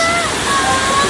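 Batlag Falls waterfall pouring in a steady broadband rush, heard up close and continuous, with no breaks over the short stretch.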